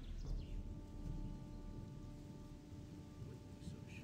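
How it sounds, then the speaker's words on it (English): Soft steady rain hisses in a Gothic 2 game world, with a low rumble of thunder beneath and a faint tonal hum, all quiet and distant. "Oh, it's raining."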